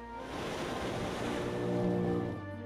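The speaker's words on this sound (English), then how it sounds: "The lap of water on the beach." Water lapping on an African beach, a soft continuous wash of small waves close by, gently swelling and fading with no voices.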